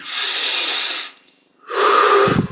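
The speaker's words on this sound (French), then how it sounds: "on augmente un petit peu l'amplitude des respirations" Two deep, loud breaths during a guided meditation exercise: a long airy inhale, a brief pause, then a strong exhale ending in a low nasal rush, close to the microphone.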